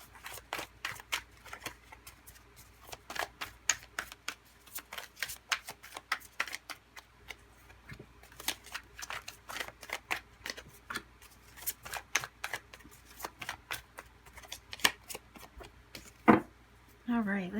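Tarot cards being shuffled and handled at close range, a long run of quick crisp riffling clicks and flicks with brief pauses, fairly soft overall.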